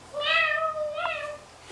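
A small child imitates a kitten's meow with two high, drawn-out mewing calls close to the listener, separated by a short pause.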